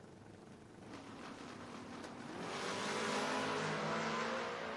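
Drag race cars, among them a 1978 Camaro, launching off the line, a distant roaring engine swell that builds and grows louder over a few seconds with no talking.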